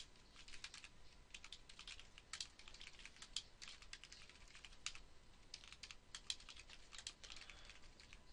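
Fast, irregular typing on a computer keyboard as an envelope return address is entered, with crisp close key clicks in quick bursts over a quiet background.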